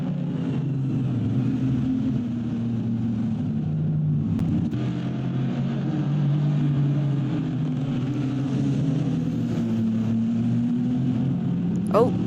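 Race cars, a McLaren and a Ferrari 296, roar past on the track at the Belgian Grand Prix, a steady loud engine drone that rises and fades through the clip, with a commentator talking over it.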